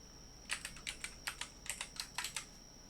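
Computer keyboard typing in a quiet room, a brief run of a dozen or so crisp, close key clicks in quick irregular bursts over a faint steady electronic whine, with no voices.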